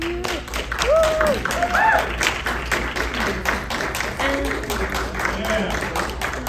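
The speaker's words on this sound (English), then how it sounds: "And applause." An audience at a library's live African storytelling event breaks into rhythmic clapping while voices call out and talk over the applause.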